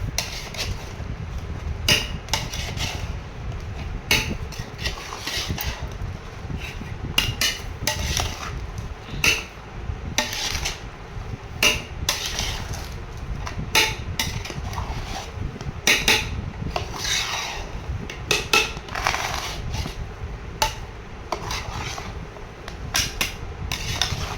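Metal utensils clank and scrape repeatedly against a biryani pot as its dum seal is broken open, producing sharp irregular knocks and clinks over a steady low background, without talk.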